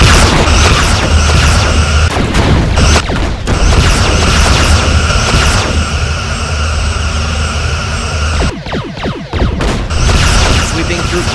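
A Romulan warbird in the Star Trek game Bridge Commander fires weapons in loud booming blasts and rumbling bursts, with dense sci-fi effects and crew voices talking over them.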